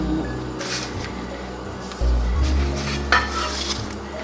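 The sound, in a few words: unleavened bread dough cooking on a hot griddle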